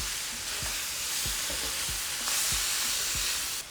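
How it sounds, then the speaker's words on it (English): Roasted Hatch peppers being stirred into a flour-thickened green chile sauce in a pan: a steady frying sizzle with repeated low scraping strokes of a spoon, close and continuous. "add 16 ounces of roasted hatch peppers. Begin to mix it in."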